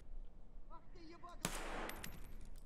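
Sudden burst of gunfire in the video game Escape From Tarkov, a sharp loud crack followed by a rapid trailing volley, just after brief speech from players.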